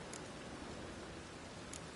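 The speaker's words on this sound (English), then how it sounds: "And it's raining again." Steady rain in the video game Witcher 3 Wild Hunt, a dense, even hiss of falling water with no distinct drops, holding at constant volume throughout.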